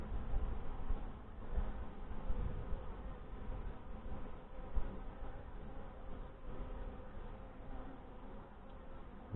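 Honey bees from a hive headed by a Saskatraz queen buzz steadily and densely through an open-hive inspection, a continuous close hum with no talking.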